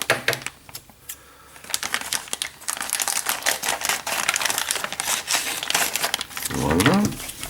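Crinkling plastic packaging as a part from a 1/8-scale Eaglemoss Ecto-1 model kit is unwrapped, rustling in irregular bursts close by with a louder crackle near the end.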